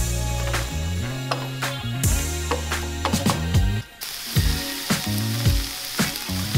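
Chopped onion fries in olive oil in a pan, giving a steady sizzle with occasional crackles while music plays loudly over it.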